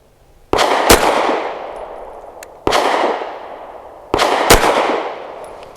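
An American Precision Firearms Arsenal Strike One pistol fires PPU 115 grain hollow point rounds: three loud, sharp shots about two seconds apart, each followed by a long decaying ring.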